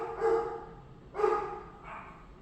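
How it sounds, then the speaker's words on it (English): Indoor dogs barking in three separate bursts, each a short yappy bark of moderate loudness, with brief gaps between them and no talking. "excuse the dogs"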